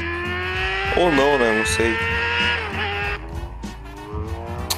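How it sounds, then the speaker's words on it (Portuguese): A Honda CBR motorcycle engine in a delivery video game roars and revs with rising and falling pitch, sounding close and loud, while someone talks over it. "o ronco dessa moto é muito foda"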